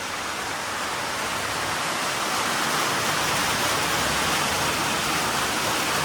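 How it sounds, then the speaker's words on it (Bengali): Sudden rain falls in a steady, dense hiss that stays even and fairly loud throughout, with no voices over it. "হঠাৎ করে বৃষ্টি, কোনো কিছু ছাড়াই, কোনো প্ল্যানিং ছাড়া বৃষ্টি।"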